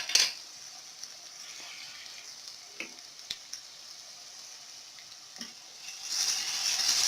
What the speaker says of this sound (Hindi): लहसुन डाल के हमने इसको थोड़ा सा फ्राई कर लिया है।